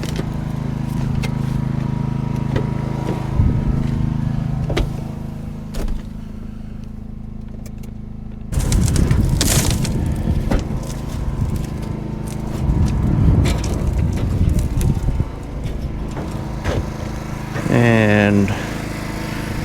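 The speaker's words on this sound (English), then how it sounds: "turn that auger on." Salt spreader auger on a plow truck starts up with a sudden loud mechanical grinding rumble that runs steadily over a lower idling engine, with people talking over it.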